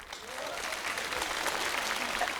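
A stand-up comedy audience gives a short burst of applause, a steady wash of clapping from a crowd that rises slightly and holds for a couple of seconds with no other sound over it.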